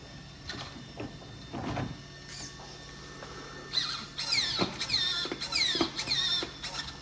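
A new servo on an SCX6 RC crawler whirs in short, quick bursts as the steering moves back and forth, with faint clicks and rattles in between.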